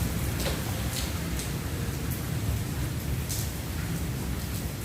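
Heavy rain pouring in windy weather: an even, broad hiss with a low rumbling undertone and a few brief splashy spikes, steady and close, with no one speaking.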